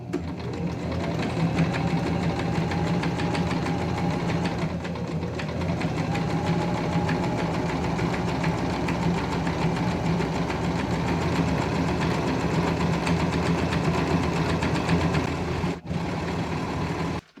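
A sewing machine running a zigzag stitch through a fabric swatch, a close, continuous rapid mechanical chatter that holds steady, with a brief dip midway and a short pause near the end.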